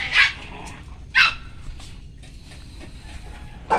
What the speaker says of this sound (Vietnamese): Chó con Phương ở đây là còn được mười mười mười mấy bé